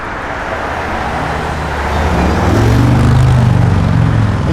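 A 1986 Chevrolet Camaro IROC-Z drives along a road, its engine and tire roar building louder midway into a broad, steady rumble, close and alone without voices.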